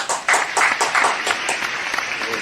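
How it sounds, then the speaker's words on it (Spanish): Audience applause welcoming a guest evangelist onto a church talk show: a burst of fairly loud, dense clapping that holds steady for a couple of seconds, with faint voices mixed in. "Recibamos con un fuerte aplauso"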